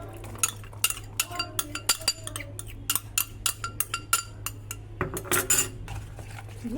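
Soaked dry fruits, steeped in orange juice, are stirred into rich fruit cake batter with a spoon, giving a brisk run of close metallic clinks and scrapes against the bowl in an uneven but steady rhythm.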